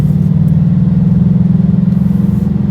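A Ford GT pulls out of a corner, its engine a loud, steady, close-up low drone with a fast pulsing rhythm as it accelerates away.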